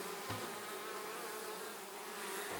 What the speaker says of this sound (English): look for the bee right on the lid